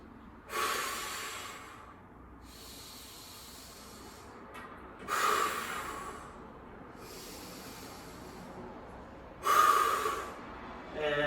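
Three deep, audible breaths during a core workout, each a loud hissing exhale a few seconds apart, with quiet stretches between them.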